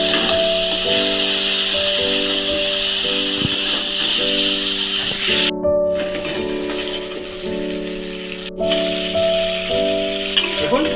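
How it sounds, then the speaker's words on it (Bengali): A spiced mixture of salt and sugar sizzles steadily as it is sautéed in a pan for a jamrul (rose apple) dish, a continuous frying hiss with a few brief pauses and a low humming tone beneath. "এবার একটু কষাবো।"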